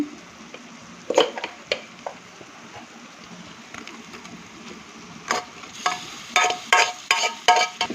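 Boiled mutton liver frying in oil with ginger garlic paste in a pan, a soft constant sizzle punctuated by repeated sharp spoon scrapes and clatters that grow busier toward the end, close and without speech.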